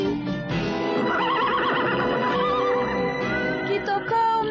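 A horse neighs within the theme song of the TV series Cavalo de Fogo, its whinny loud and prominent over sustained music throughout.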